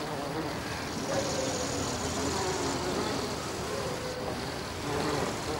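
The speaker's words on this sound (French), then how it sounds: "comme ce couple de mouches" Two flies buzzing near a flower, a continuous droning hum with slight shifts in pitch as they move, close and steady throughout.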